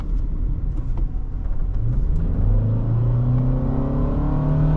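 Engine noise from a 2023 Toyota Sienna LE Hybrid heard from inside the cabin while driving: a low rumbling drone that climbs steadily in pitch as the minivan accelerates, with no talking.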